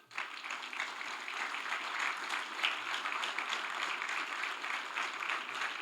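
Sustained clapping fills the room for bar exam award recipients at an admission ceremony, a large crowd applauding evenly and fairly loud throughout, with faint low tones beneath.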